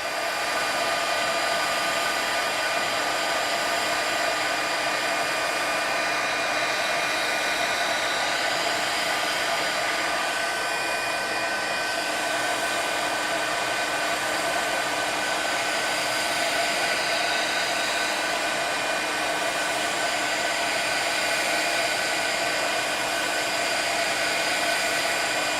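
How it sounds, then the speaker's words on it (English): Heat tool blowing steadily on embossing on a handmade card, a loud, even whirring hiss that runs without pause for the whole stretch, with no voices. "I'm just going to lift this up, hit this with my heat tool."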